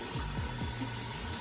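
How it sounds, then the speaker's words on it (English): Tap water runs and splashes steadily over a human hair wig being rinsed in a sink, a close, continuous hiss with no talking. "So I'm about to finish rinsing out the hair."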